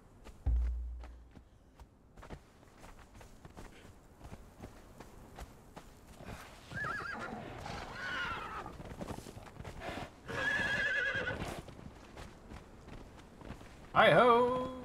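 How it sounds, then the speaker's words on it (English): An undead horse in Conan Exiles whinnies in several loud bursts, with hooves clopping and game-style background sound running throughout. "Undead horse! And away!"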